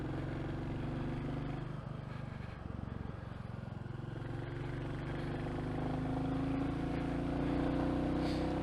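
Royal Enfield Classic Reborn motorcycle cruising on the road toward Helmshore, a steady single-cylinder engine drone with wind rush, easing briefly mid-ride then picking up and holding louder toward the end.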